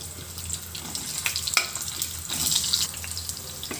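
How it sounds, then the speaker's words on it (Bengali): Chicken muitha dumplings drop into hot mustard oil and sizzle with a steady, crackling, hissing sputter, with small pops scattered through it, close by and fairly quiet. "তেল গরম হয়ে গেছে, এখন এর মধ্যে দিয়ে দেব মুইঠাগুলো।"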